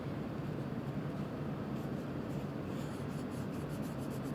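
A pen draws and writes on paper in a continuous soft scratching and rubbing close by, with no speech.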